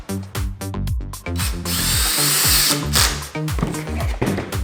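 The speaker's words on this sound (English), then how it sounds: "And then you screw the pocket holes in." Cordless drill driving screws into pocket holes to join wooden planter box boards, several short bursts of whirring motor with pauses between them, close and loud, no talk.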